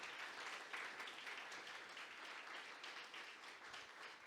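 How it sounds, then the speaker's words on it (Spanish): A church congregation claps steadily to welcome first-time visitors, a dense, continuous round of applause that fills the room without pause. "Démosles ese aplauso de recibimiento a ellos."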